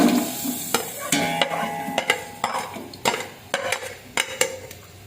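Onions fry in about four cups of oil in a pot on the stove for chicken biryani, a continuous sizzle broken by sharp metallic scrapes and clanks of a spoon stirring against the pot, close and without talk.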